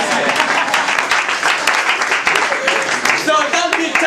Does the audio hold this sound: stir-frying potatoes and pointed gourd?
no